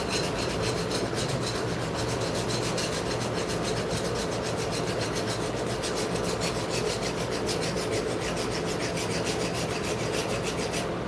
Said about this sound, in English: Call this hot filing because we're filing while it's hot.